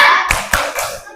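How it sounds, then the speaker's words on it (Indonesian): A classroom of students claps a short rhythmic cheer in a few sharp, loud, evenly spaced bursts, close by and with no talking. "kita tepuk semangat dang ding dong dulu bersama"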